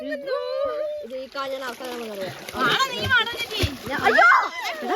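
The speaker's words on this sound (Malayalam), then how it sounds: "വെള്ളം തെറിപ്പിക്കല്ലേ?" Water splashes in a river under children's chatter and shouting, the splashes growing busier toward the end.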